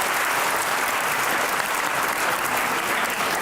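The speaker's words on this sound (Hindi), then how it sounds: "लेकिन तालियां बजाएं साथ के लिए।" Studio audience at a Pakistani celebrity chat show gives steady, dense applause that stays loud and even for the whole stretch, with no voices rising above it.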